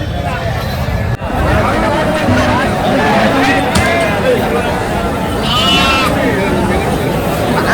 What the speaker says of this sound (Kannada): ನೋಡಿ ಎಲ್ಲ ಬರೀ ಟಗರು ಕುರಿಗಳೇ ಇವೆ.